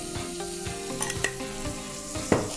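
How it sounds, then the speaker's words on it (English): Sliced onions fry in oil for Punjabi chana masala, giving a continuous close sizzle broken by several soft knocks and scrapes of a spoon stirring the pan, ending on one sharper clack. "after this we are going to add sliced onions and fry them till they give it a little color"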